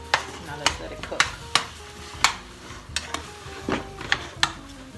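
Meat frying in a pan for spaghetti, a low steady sizzle broken by sharp clinks of a utensil against the pan at irregular intervals, close by.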